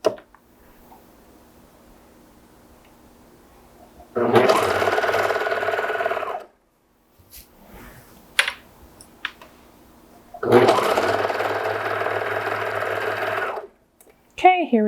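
A sewing machine stitches around an inseam pocket in two bursts of steady running, each a few seconds long, separated by quiet handling noises and fabric rustle close by.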